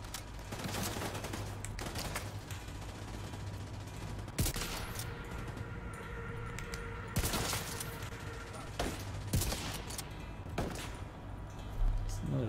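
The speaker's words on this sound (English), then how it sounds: "Who's shooting me?" Repeated gunfire in The Division 2: sharp shots and short bursts crack out at irregular intervals over a constant low background hum, some close and loud, others more distant.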